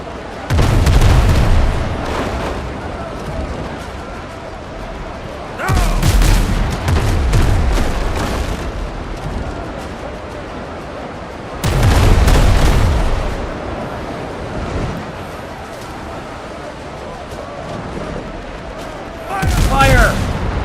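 Ship cannons firing in the naval video game Windrose, heavy booming volleys arriving in four separate bursts spaced several seconds apart, each a loud rumbling blast that fades back to quieter ambience.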